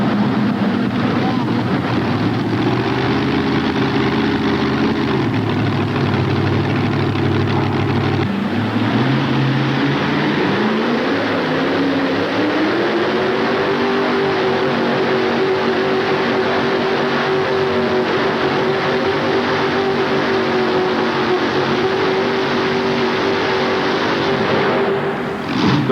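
A modified tractor with twin Chevrolet engines roars steadily at a tractor pull, a loud sustained drone with its pitch climbing partway through as the engines rev, heard amid windy outdoor noise.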